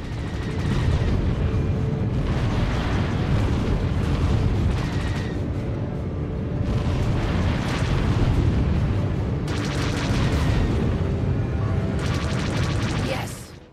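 Heavy missile explosions tear through a target ship in a space combat video game, a dense roaring barrage of booms and bursts sustained loudly throughout with repeated surges.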